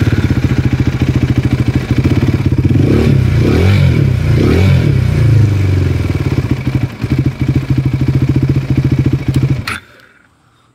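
KTM Duke 390 single-cylinder engine with its DB killer removed, loud and close, idling with rapid pulses, then revved hard twice in swelling blips before settling back and cutting off near the end; a brief voice sound appears.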